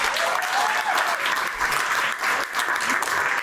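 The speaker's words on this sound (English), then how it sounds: "I think he deserves a big round of applause." Loud, sustained applause from the audience at the Red Awards 2021 presentation ceremony. It is a thick, continuous wash of clapping from many hands, unbroken throughout.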